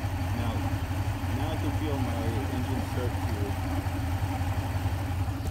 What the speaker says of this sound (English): I can feel the engine start to kind of bog down and kind of get rough idle.